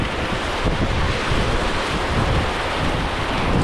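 Strong wind roars and buffets across an outdoor microphone on Mt. Washington, a loud, continuous rushing gust with no talk.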